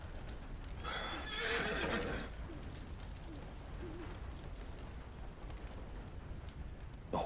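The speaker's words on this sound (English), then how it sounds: "The horse." A horse whinnies in a long rising neigh, with steady hoof clops and ambient outdoor noise continuing afterward, in the video game Red Dead Redemption 2.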